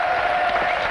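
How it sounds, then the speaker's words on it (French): Studio audience on a French TV game show breaking into applause, a brief dense wash of clapping lasting about a second with a steady tone running beneath it. "On l'applaudit très fort"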